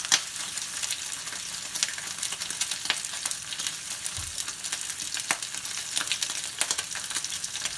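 Sausage links fry in a pan with a continuous crackling sizzle, sharp pops scattered throughout and a faint low scrape partway through, with no one talking.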